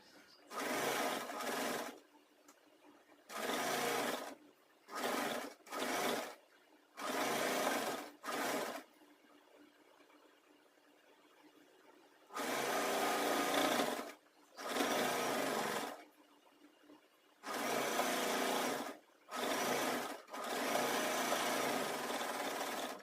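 A sewing machine stitching a girls' uniform skirt runs in repeated bursts of whirring, some short and some several seconds long, separated by quiet pauses, close and clear with no talking.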